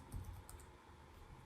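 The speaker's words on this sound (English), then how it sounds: "I'll type enable, and then I'm going to put in the command" Someone types a command on a computer keyboard while configuring a network switch over PuTTY, producing a few quick, faint key clicks close by over a low background hum.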